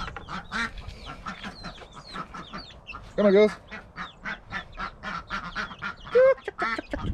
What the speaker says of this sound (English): Unlocking, unlocking. Chickens.